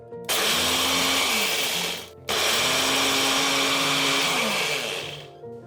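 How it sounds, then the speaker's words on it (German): A loud electric grinder coarsely grinds a spice mix in two bursts, cutting off briefly between them, its motor pitch shifting as the spices break down. "Die Gewürzmischung grob mahlen."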